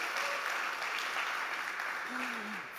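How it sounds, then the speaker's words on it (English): Audience applause at a startup summit stage session after a pitch, steady sustained clapping throughout with faint tonal sounds underneath. "so big round of applause for us"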